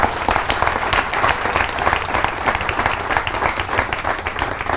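Loud, dense applause from a seated audience at a business training seminar fills the whole stretch, steady and sustained without a break.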